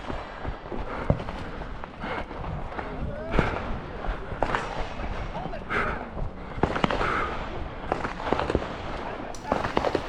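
Pistol and rifle shots crack out in irregular succession at an outdoor shooting match, sharp reports near and far mixed with movement, footsteps and people talking.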